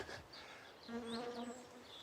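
Bees buzz around geum flowers in a summer garden border, a soft, close, wavering drone with pitch shifts as individual insects move, fairly quiet and without talk.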